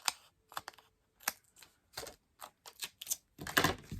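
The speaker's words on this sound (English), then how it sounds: "Now, trim off the end." Packing tape is trimmed in a quiet craft setting, giving a series of short, sharp crackling snips and taps, spaced unevenly and close up, with a denser burst at the end.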